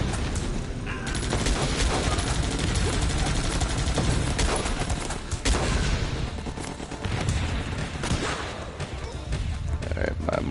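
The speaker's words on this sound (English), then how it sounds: "my mortars are shelling my own guys" Mortar shelling and gunfire in a video game battle, with continuous dense rattling shots and heavy thuds in a constant wash of combat noise, and a voice talking at times.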